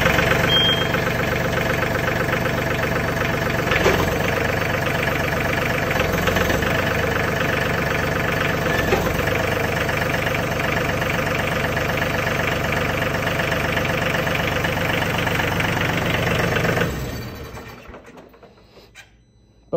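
A John Deere 3033R compact tractor runs steadily at a close, even idle-like drone while raising its mower deck, the engine sound continuing unbroken before cutting off near the end.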